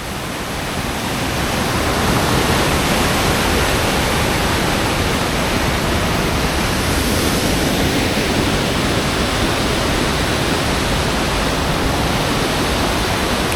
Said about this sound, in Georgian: აი ეს მდინარის ხმაური რო არის